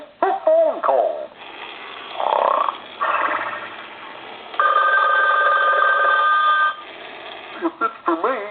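An animated novelty telephone in demo mode rings in several bursts of bright electronic trilling, the longest one steady, with a short cartoonish voice-like passage in between, fairly close and loud.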